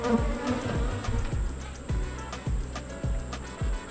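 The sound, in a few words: honey bees buzzing around an opened hive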